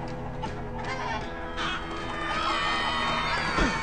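Blocky video-game chickens in Minecraft Story Mode cluck in short bursts over background game music and bustle, with a thud near the end.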